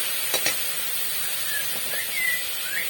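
Fish frying in a pan with ginger-garlic paste, stirred: a steady soft sizzle and hiss with a few light scraping stir strokes, close and alone without talk.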